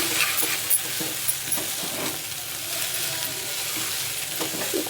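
Beans fry with a steady, close sizzle while a utensil stirs them in a pan, scraping in irregular strokes; no one speaks.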